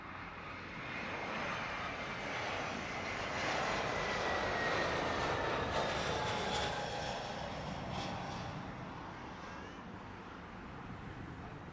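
A British Airways Airbus A320 in oneworld livery comes in to land at Heathrow, its engine roar rising and falling gradually with a thin whine on top, heard at a middle distance with some wind, no voices.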